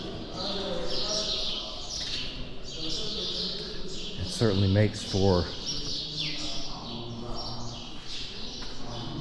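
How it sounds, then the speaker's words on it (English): Birds chirp and tweet continuously in the background inside the ancient Egyptian Temple of Seti I while a person speaks over them. "the birds chirping. I hope you can hear that."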